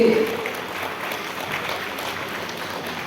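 Applause from an audience at a women's empowerment event, a thin, steady patter of clapping heard from the middle distance that continues throughout.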